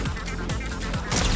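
A gold pump shotgun fires in the Fortnite battle royale game, giving a couple of sharp blasts within a dense, loud mix of game noise.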